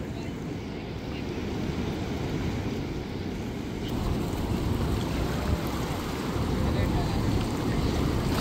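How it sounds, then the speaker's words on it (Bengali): Sea waves surging on the beach at Cox's Bazar: a broad, continuous roar of surf mixed with heavy wind buffeting the microphone, loud and steady without a break. "একদিকে এত সুন্দর ভিউ আর আরেকদিকে সমুদ্রের গর্জন।"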